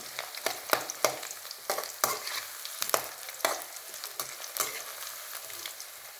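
Cauliflower florets for gobi manchurian deep-fry in oil with a constant crackling sizzle, broken by a series of sharp, close scraping stir strokes at irregular intervals.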